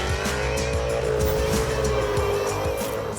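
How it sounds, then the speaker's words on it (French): A Chevrolet Corvette C6 V8 roars loudly as it accelerates, engine pitch climbing steadily, with tire squeal and skidding on a test drive and no talk. "Et on écoute le bruit de ce V8."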